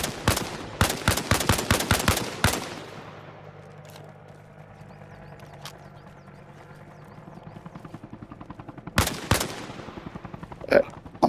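Gunfire in a video game comes as a rapid, loud burst of evenly spaced shots, then a steady low rotor-like drone and brief talk, before another short volley cracks out near the end.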